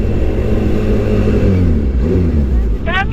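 A motorcycle engine running steadily at close range, a loud continuous rumble with a slight rise in pitch, accompanied by voices talking over it.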